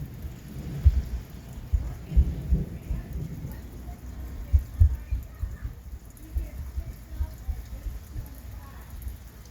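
Thunder rumbles repeatedly through a hot, muggy thunderstorm in Penfield, New York, with low booming peaks over a steady wash of rain and faint background noise.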